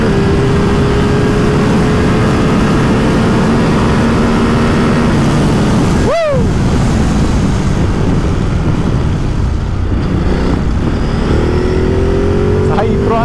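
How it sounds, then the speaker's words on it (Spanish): A Ducati Multistrada 950 S with its catalytic converter removed and the stock slip-on exhaust accelerates, its engine droning loud and constant, mixed with heavy wind rush. "La aceleración de la moto"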